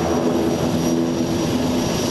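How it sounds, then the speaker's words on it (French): NH-90 Caïman naval helicopter flying at an air show over Hyères naval air base, a steady loud rotor and turbine drone with constant whine, no pauses. "Le Caïman est un hélicoptère de combat aéro-maritime de nouvelle génération."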